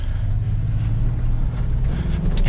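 A 2022 Land Rover Defender 90 V8 rumbles with a deep, steady low engine note while driving off road through mud, heard from inside the cabin with no voices.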